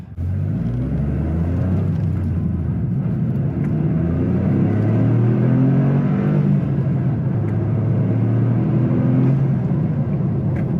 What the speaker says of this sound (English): I'm addicted to the way that this turbo 3-cylinder sounds.